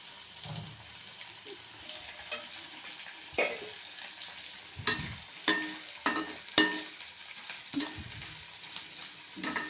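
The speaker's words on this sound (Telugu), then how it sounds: "ఈ మంచిగా 2 నిమిషాలు మంచిగా నూనెలో వేగనివ్వాలి మెత్తళ్ళు" Gongura leaves and mettallu fry in oil in a pan, a soft continuous sizzle broken by repeated scraping and clattering stirring strokes, spaced irregularly and close up, with no talking.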